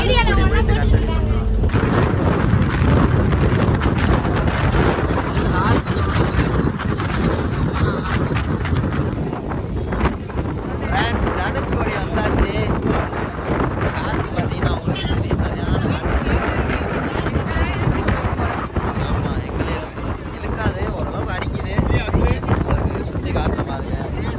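A van drives along the road toward Dhanushkodi near Rameshwaram, with continuous engine and road rumble and gusty wind buffeting the microphone, while people talk throughout.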